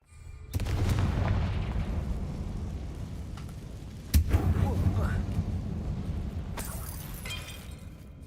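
The Confringo explosive spell in the video game Hogwarts Legacy goes off as a sharp blast with a rumbling, shattering tail, then a second impact bursts a few seconds later. A voice casts the spell over the sound.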